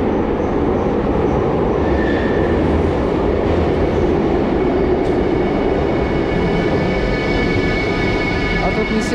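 A loud, constant rumble of a train moving through an underground metro station in Budapest, steady rolling roar with faint high squeals and muffled voices beneath.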